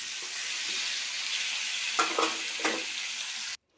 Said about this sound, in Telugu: ఆనియన్, ఎండుమిర్చి, కరివేపాకు 2 నిమిషాలు బాగా ఫ్రై చేసుకున్నాం